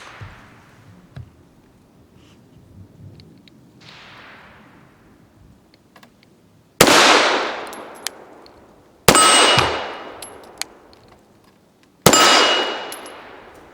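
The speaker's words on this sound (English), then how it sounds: "we're going to start off with some very lightweight MagTech 95 grain ammo" A Kahr S9 pistol fires three rounds of lightweight MagTech 95 grain ammunition at a shooting range: three sharp, loud, evenly spaced cracks, each ringing out and decaying, after fainter distant shots.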